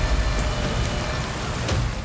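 Steady rain falls outdoors as a dense, continuous hiss with a low rumble beneath, unbroken and fairly loud, with no voices.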